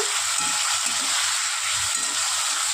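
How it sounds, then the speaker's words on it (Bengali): Potatoes frying in hot oil make a loud, steady, close hiss of sizzling that carries on without pause, over a faint low hum. "দেখতেই পাচ্ছেন আলুগুলো আমি খুব ভালো করে ভেজে নিয়েছি"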